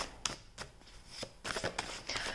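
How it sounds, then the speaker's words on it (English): Tarot cards are shuffled and dealt by hand in soft, quiet flicks and riffles, with a few crisper slaps mixed into an irregular close-up rustle. "it feels like I'm just dealing the cards and shuffling the cards"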